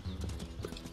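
Hooves of a cow elk in the video game WolfQuest, a quick run of soft overlapping clip-clop steps close by, lasting about a second with no talk over them.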